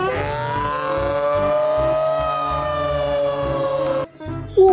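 A toy fire truck siren wails loudly and steadily in a sustained electronic tone, then cuts off abruptly near the end before briefly resuming.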